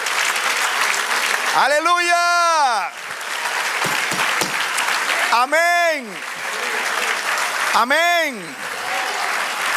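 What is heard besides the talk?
church congregation applauding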